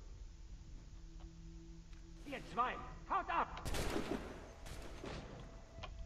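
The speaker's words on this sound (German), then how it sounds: "So, da haben wir den sauberen Schuss abgegeben" A single musket shot in the video game Assassin's Creed III, a sharp broadband blast near the middle followed by a brief tail, amid game ambience and short tonal sound effects, with no talking.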